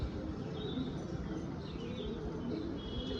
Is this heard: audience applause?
no